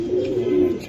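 A large male racing pigeon coos while held in someone's hands, one low soft throaty purr lasting under a second, heard close and alone.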